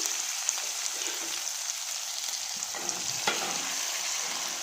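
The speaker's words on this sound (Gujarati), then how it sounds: "આપણું રાઈ જીરું તલ એકદમ સરસ ચટકવા લાગ્યું છે" Spinach muthiya frying in a tempering of mustard seeds, cumin and sesame seeds in hot oil: a dense, close, rain-like crackle and sizzle with occasional sharper pops, and no talking.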